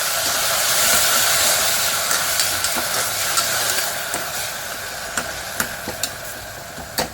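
Fenugreek leaves fry in a hot pan for dal methi, a soft steady sizzle with scattered spoon scrapes and taps as they are stirred, close and moderately quiet with no talk.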